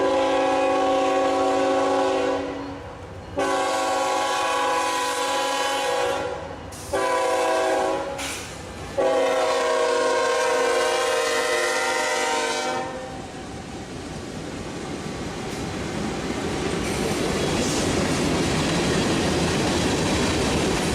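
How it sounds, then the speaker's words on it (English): Two Union Pacific locomotives haul a manifest freight train past in Folkston, Georgia, sounding long loud horn blasts broken by short gaps, then giving way to a steady rolling rumble and rattling wheels as the cars pass close by. "The two Union Pacific locomotives that we had already seen twice now once again rolled past our"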